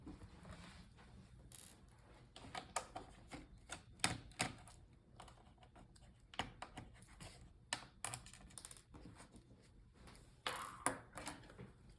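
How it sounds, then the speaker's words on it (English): A Phillips screwdriver backs screws out of the bottom of an HP 15-dy2046nr laptop, making faint, close, irregular clicks and ticks in a quiet room. "And now we're gonna take out these two screws. We can use Phillips screwdriver."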